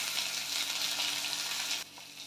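Onion, capsicum and tomato fry in a hot pan, giving off a steady, dense sizzle that holds close and even before dropping slightly softer near the end.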